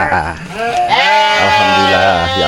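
A sheep lets out a loud, close, wavering bleat that stretches over a couple of seconds, while people talk around it.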